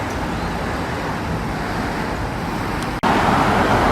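Steady roar of busy road traffic on Circular Road in London, cars and buses passing close by in a continuous wash, with a brief dip before it swells louder again.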